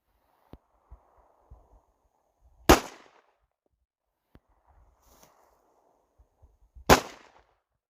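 Two sharp, loud Glock 19 pistol shots a few seconds apart, each ringing briefly, with faint thuds and clinks from ejected shells in between.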